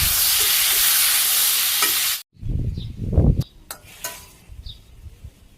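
Tomato and mango drop into hot oil tempered with mustard seeds, a loud sustained sizzle that cuts off abruptly, followed by stirring clatter and softer sputtering.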